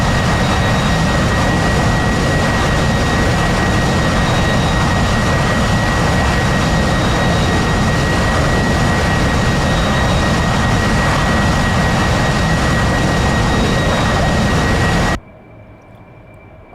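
An AV-8B Harrier jet in a flight simulator game roars loudly and steadily as a broad, constant engine rush with a faint high whine, then cuts off abruptly near the end.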